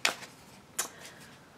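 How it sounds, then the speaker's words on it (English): Tarot cards are shuffled close by in two quick riffling bursts with a soft rustle between, in a quiet room with no talking. "just shuffling the cards"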